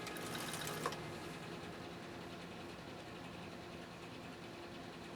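Husqvarna Viking 2000 sewing machine turned slowly by hand, a faint, steady low mechanical whir with a small click near the start, quiet and close, with no talking.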